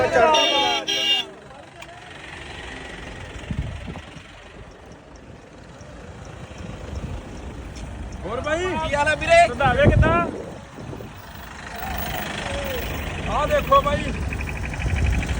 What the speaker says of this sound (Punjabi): ਉਹ ਆਉਂਦਾ ਟਰੈਕਟਰ ਨਹੀਂ ਆਉਂਦੇ ਪਿੱਛੇ ਟਰੈਕਟਰ